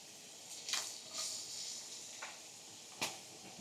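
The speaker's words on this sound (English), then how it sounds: "throw my vegetables in" Vegetables land in a hot 10-inch GlobeHome frying pan and sizzle softly, with a few brief hissing bursts as pieces hit the oil over a low steady fry.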